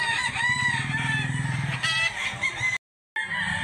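A rooster crows loudly and close by in one long, wavering call, cut off briefly near the end.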